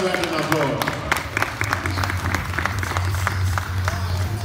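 Audience applause at a Swedish national kettlebell competition in Falun, a dense steady patter of clapping that fills the hall for several seconds over a low background hum, with voices mixed in.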